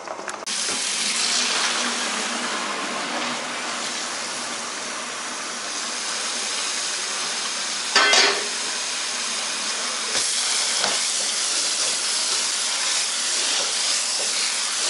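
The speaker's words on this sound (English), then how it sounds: "I'm going to take that off and drain it." Boiling pasta water pours and hisses steadily into a sink, with rising steam and a brief louder splash partway through.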